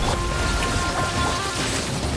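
Steady rain and rolling thunder from a storm in the video game Genshin Impact, a dense continuous wash that holds at an even level for the whole stretch with no voices.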